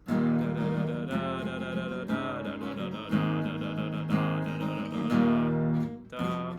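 Acoustic guitar strummed chords in a steady pattern, with bright sweeps at each chord change and ringing sustain between, played close and fairly loud.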